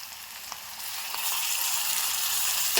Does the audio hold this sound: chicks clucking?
no